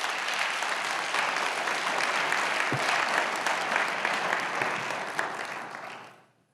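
An audience at a symposium applauds the panelists, a full, even clatter of many hands that stays steady for several seconds before quickly fading out at the end.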